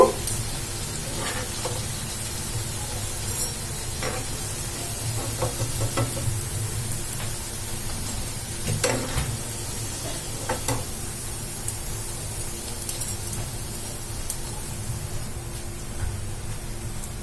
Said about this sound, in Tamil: நம்ம வந்து ஆயிலில் போட்டு நல்லா ஃப்ரை பண்ணி எடுத்துக்கலாம்